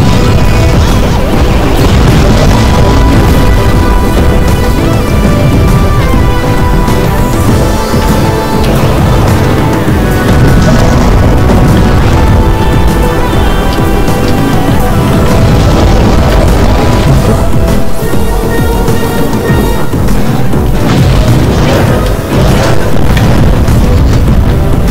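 Bomb blasts in the monster-brawling game War of the Monsters, continuous very loud booming and crashing under a dense game soundtrack, with the explosions blending into the constant roar.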